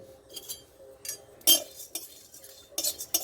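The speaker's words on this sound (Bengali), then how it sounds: "প্রথমে চিঁড়েটাকে ভালো করে ভেজে নিতে হবে, আর শুকনো খোলাই ভাজতে হবে, কোনো রকম তেল দেওয়া যাবে না" Flattened rice dry-roasted in a wok with no oil, the spatula scraping and clinking against the metal in short irregular bursts between quiet gaps, close by.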